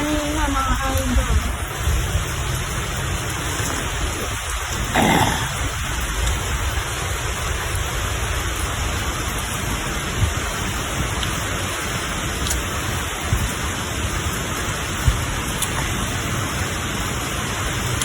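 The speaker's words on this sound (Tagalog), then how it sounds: "Malakas po ulan kanina mga idol." Heavy rain falls steadily as a dense, even hiss that persists throughout, with a person speaking briefly near the start.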